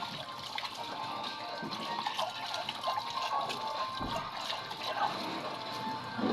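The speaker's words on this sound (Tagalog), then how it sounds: "Ayan po sa mahina po ulit na tubig." Water runs from a tap in a soft, steady stream while rinsing dishes, splashing lightly as it's heard from a short distance, fairly quiet overall.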